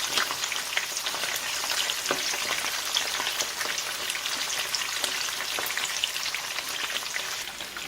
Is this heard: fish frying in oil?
yes